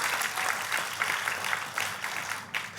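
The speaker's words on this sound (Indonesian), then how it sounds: "Kasih tepuk tangan yang paling meriah buat Tuhan kita." A church congregation claps together after a pastor's sermon, producing a dense, steady wash of applause with faint rhythmic pulses, fairly distant and lasting throughout.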